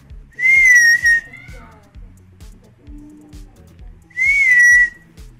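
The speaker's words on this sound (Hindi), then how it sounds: "सीटी की आवाज़ पहचानती है तो देखें जरा, मैं आवाज़ लगाता हूँ" Two loud, sustained high whistles from a person calling a dog, separated by a pause, with a steady low rhythmic thumping, like footsteps or music, running underneath.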